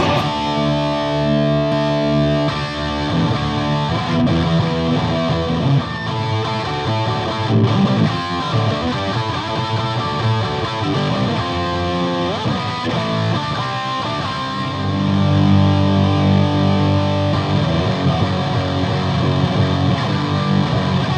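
Electric guitar through an MXR Distortion Plus pedal, heavily distorted, playing loud, continuous riffs and chords, thick and saturated throughout with no voices.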